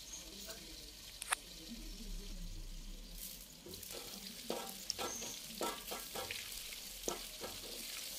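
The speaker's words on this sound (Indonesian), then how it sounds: "kita akan goreng dulu" Spice paste with roasted candlenuts fries in oil in a pan, sizzling and crackling steadily, with occasional sharp pops and scraping stirs, close by and moderately loud.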